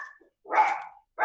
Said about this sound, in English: sorry about the barking noise